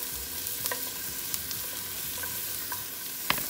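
Onions and shallots fry softly in grapeseed oil in a saucepan, a low even sizzle with a few sharp crackles and pops.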